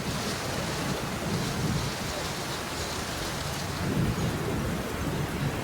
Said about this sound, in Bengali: আর তখনও প্রচন্ড বৃষ্টি হচ্ছিল